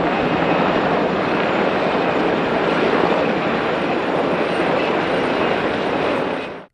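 Military helicopter flying during a large exercise, a steady, loud broadband engine and rotor roar holding constant for several seconds before cutting off abruptly, with no voices.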